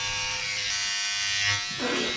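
Electric shaver buzzing steadily as it shaves hair, a close, continuous whirring hum that shifts in tone near the end, with faint voices in the background.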